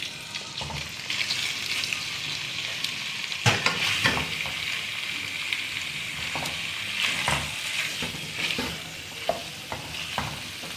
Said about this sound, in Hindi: इसे थोड़ा सा भून के कि इसका कलर चेंज हो जाए